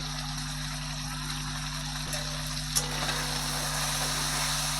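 Whole spices, bay leaf and chopped tomato fry in a pan, giving a steady, even sizzle under a constant low hum, with one brief clatter midway.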